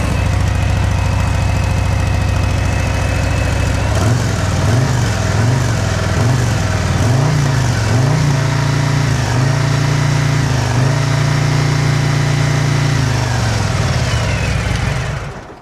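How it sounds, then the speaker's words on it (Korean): A Harley-Davidson touring V-twin with stock exhaust idles loudly up close, its deep rumbling exhaust lumpy and uneven, with a few small throttle blips in the middle. "순정 배기음입니다."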